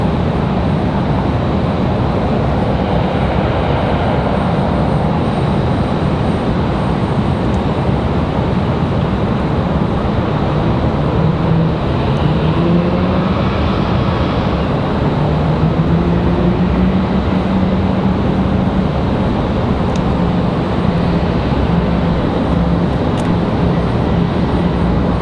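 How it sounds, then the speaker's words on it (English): A Boeing 737 MAX 8 airliner arriving at Raleigh-Durham airport at night, its engines a loud, continuous broad roar that holds steady, with a faint whining tone sliding through the middle. "There she is, our MAX 8 from Vancouver."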